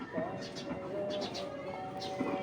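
Racing pigeons coo softly in a loft, a few low, rounded calls surfacing close by against a steady background hum.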